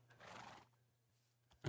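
A Minecraft horse lets out a neigh, a bright whinny lasting about half a second, followed by a short snort near the end; quiet and close, with no talk over it.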